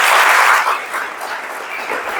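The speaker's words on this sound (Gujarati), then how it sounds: "જોરદાર તાળી પાડો એમના માટે" A college audience clapping, starting loud and dense then fading to a thinner, softer patter over about two seconds.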